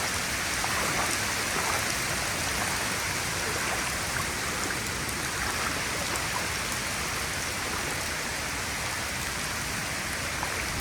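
Heavy hurricane rain pours down around a flooded creek running boot-deep, a loud, unbroken wash of rushing water and drumming drops that stays constant throughout with no talking.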